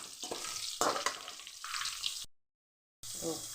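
Bitter gourd slices with garlic sizzle and crackle in a hot pan, broken by stirring scrapes, loud and close, with a brief silent gap before the frying resumes.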